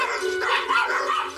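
A dog barks steadily at close range, with rapid yips and bow-wows running together over a continuous background noise and no talking.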